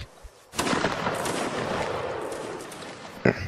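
A massed musket volley in the video game Napoleonic Wars line battle: a sudden loud roar of many shots fired together, rolling on as a sustained crackle and rumble, with a sharp extra report near the end.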